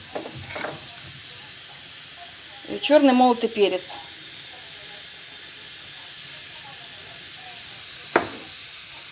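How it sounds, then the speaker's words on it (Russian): Chopped onion and grated carrot fry in sunflower oil in a pan for chicken soup, giving a steady, soft sizzle throughout while someone talks briefly over it. "Нарезала лучок, морковку натерла на подсолнечном масле. Обжариваю это все."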